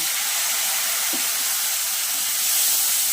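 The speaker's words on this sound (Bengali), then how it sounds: "মশলাটা কষানো হয়েছে। এবার আমি একটু সামান্য জল দেব।" Water poured onto a hot fried spice paste for a sour-spicy mola fish curry gives a loud, continuous close hiss of steam and sizzling that holds steady through the whole moment.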